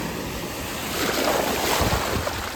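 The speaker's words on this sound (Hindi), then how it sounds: "कई बार आती है लहर, कई बार नहीं आती" Ocean waves wash in on the shore, a steady roar of surf that swells louder midway, with wind buffeting the microphone and no voices.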